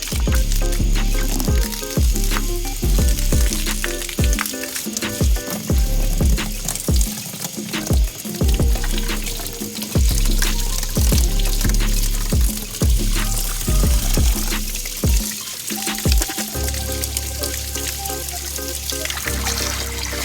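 Water from a hose or tap splashes and pours over Jeep Wrangler JKU heater core parts, a steady loud rush with irregular sputters and drips, close by and without talk.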